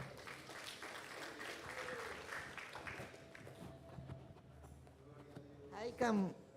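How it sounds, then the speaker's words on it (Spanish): Scattered clapping from a congregation at a Quechua-language youth service, moderately distant and thinning out, with voices and a louder shout rising near the end. "Palmas para Cristo."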